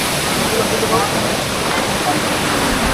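A waterfall in the Ayodhya Hills roars in a constant, loud wash of rushing water, close and unbroken throughout.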